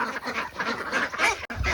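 A flock of hungry domestic ducks quacks steadily and busily at close range, many overlapping calls forming a continuous chattering din with no pauses, before a brief gap and a few louder, deeper quacks.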